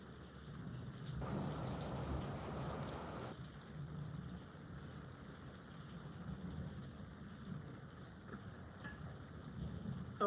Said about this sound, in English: It is raining and cold.